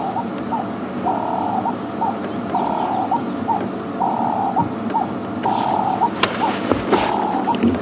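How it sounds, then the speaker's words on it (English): A ring-necked dove calls repeatedly in the background on an evening safari drive at Djuma Game Reserve, its steady, rhythmic cooing phrases repeating through a continuous outdoor bush ambience. "Hear the ring-necked dove calling in the background."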